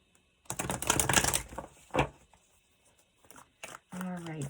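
Tarot cards are pulled and shuffled, giving a dense burst of papery riffling and snapping followed by a few isolated card flicks.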